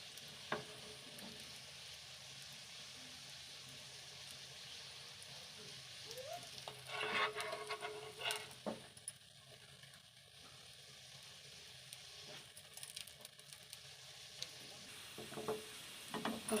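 Quiet, steady sizzle of bread pakora frying in a pan of oil, with a few brief clinks and stirring sounds partway through and no talking.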